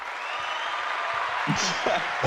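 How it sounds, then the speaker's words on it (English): A triggered applause sound effect in a studio interview setting, a steady wash of crowd clapping running throughout, with people talking over it toward the end. "I'm gonna press a round of applause before we even introduce him."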